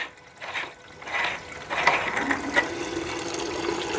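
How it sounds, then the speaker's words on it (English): Water splashing and trickling against the inside of a cooling tank on an electric-converted Jeep CJ-7, a steady close splashing wash that runs throughout without voices. "the loudest part of the whole thing is just the water hitting the inside of the tank"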